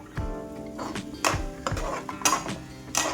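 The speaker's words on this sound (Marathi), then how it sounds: "आता यामध्ये भाजलेलं जे वांग आहे ते टाकून घेऊ, छान असं यामध्ये मिक्स करून घेऊ।" Roasted eggplant stirred into cooked tomatoes in a pan for Maharashtrian baingan bharta, a spoon scraping and clinking against the metal in several short strokes, close and moderately loud, with no talk.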